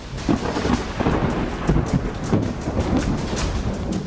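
Heavy monsoon rain pours steadily over Mumbai with rumbling thunder rolling underneath, dense and close, no voices.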